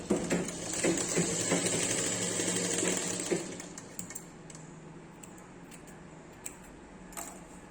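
A sewing machine stitching the neck of a baby frock, with a close, steady mechanical whir for about three seconds, then scattered clicks and light handling noises as the stitching stops.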